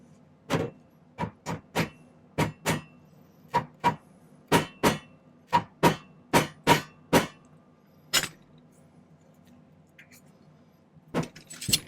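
Sharp metallic hammer strikes on silver ring out one after another, about seventeen blows in uneven clusters, close and crisp with quiet gaps between.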